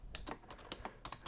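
Keystrokes on a computer keyboard, a run of about ten distinct clicks in an uneven rhythm, fairly close and clear over a quiet background.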